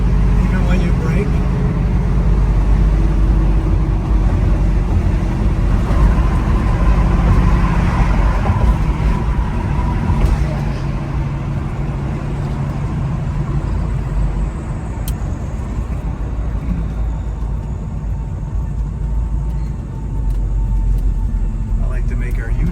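A 1972 Chevrolet Nova with a 5.3L engine and 4L60E gearbox drives on the road, giving a continuous low engine drone and road rumble heard from inside, with people talking over it.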